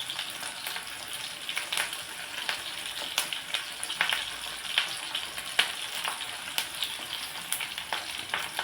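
Curry leaves hit hot oil in a pan while a ridge gourd chutney is being made, giving a close, steady sizzle broken by frequent sharp crackles and pops.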